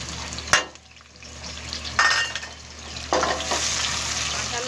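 A medium onion browns in two spoonfuls of hot oil, a soft continuous sizzle broken by a few sharp spoon scrapes and clinks against the pot, close by and with no voices.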